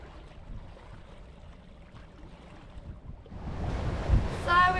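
A sailboat cruising on flat, calm water near the Los Roques islands in a light breeze of about ten to twelve knots, with a steady wash of water and wind noise that swells louder toward the end.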